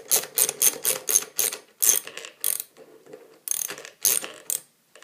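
A ratcheting hand tool loosens a nut while a longboard is being assembled. Close, crisp bursts of rapid clicking come in uneven strokes with short pauses between them, heard alone.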